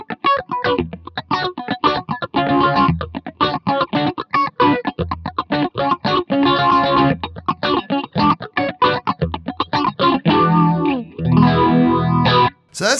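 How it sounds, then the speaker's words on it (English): Guitar through a BOSS PH-3 phaser pedal in eight-stage mode with some resonance, rapidly strummed and picked, with a pronounced swirling, sweeping tone and choppy staccato rhythm. The playing is loud and close. "So that's how I pretty much run my phaser."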